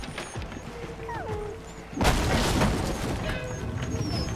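A statue is smashed in the Far Cry Primal video game, a sudden loud crash that gives way to sustained rumbling debris amid game ambience.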